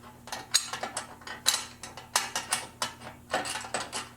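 Bumperette bracket being bolted onto a Dodge Challenger bumper during a restoration, a rapid run of close ratchet clicks in short rhythmic bursts, each stroke sharp and metallic over a low steady hum.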